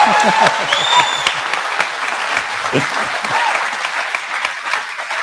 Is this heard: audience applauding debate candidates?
yes